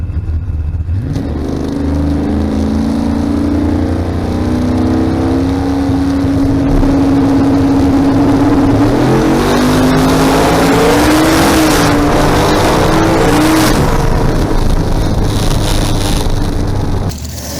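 In-car sound from a race car during a qualifying run at a PSCA race, a loud, close engine drone rising and falling in pitch with gear changes and acceleration, continuous with no talk.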